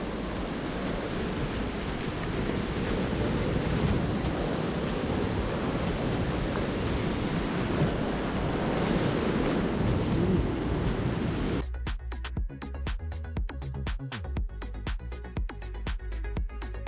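Surf washing ashore at Golden Beach on Thassos, a steady broad rush of breaking waves close by for most of the stretch, cut abruptly near the end to a quieter, sparser backdrop.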